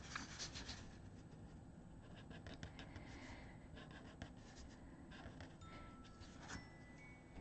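Dual tip markers drawing on paper, very faint close-up squeaky strokes and scratchy rubbing in a loose, irregular rhythm, with small taps between strokes and no talking.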